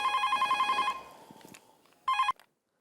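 A telephone rings with a repeating electronic trill, a burst of rapid pulses that stops after about a second, then a second short burst follows after a brief pause, clear and close with no talking.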